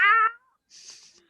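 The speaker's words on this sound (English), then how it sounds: "And when I release, it's going to meow." A cartoon cat meow plays from a Splat toy app, a short bright meow followed by a brief hissy burst of sound, alone and close.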